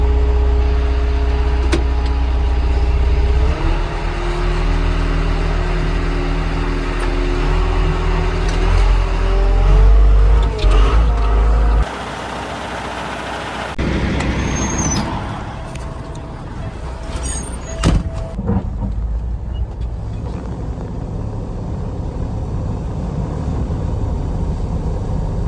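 A tractor's heavy engine rumbles loudly and strains while pulling a stuck truck hauling canola, with revving and shifting tones, mechanical clanks, and a few sharp knocks as it pulls.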